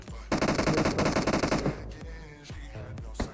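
Rapid automatic gunfire in a battle royale video game, a dense loud burst of repeated shots for over a second, followed by scattered single reports and softer distant shots.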